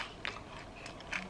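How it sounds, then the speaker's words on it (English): Crispy paprika butter beans crunch between the teeth in a couple of faint, sharp bites during quiet chewing at close range. "do you hear that crunch as well?"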